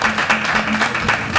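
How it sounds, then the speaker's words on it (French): Audience applause in a large arena during a TV show, a steady, loud wash of clapping with a faint tone and voices underneath. "Applaudissez!"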